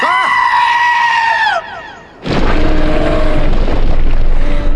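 A small goat gives a loud, strained bleat with a wavering pitch, followed after a short gap by a louder burst of noisy, blaring sound that carries to the end.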